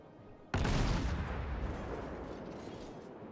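A heavy naval gun blast in World of Warships as the ship New York comes under fire: one sudden loud boom followed by a long rumbling decay.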